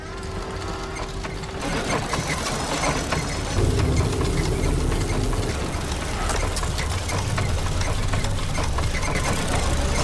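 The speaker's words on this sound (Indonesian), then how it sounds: "mereka mendengar seseorang yang sedang menggunakan mesin jahit" A sewing machine runs continuously with a fast mechanical whirr and rattle, steady and fairly loud throughout.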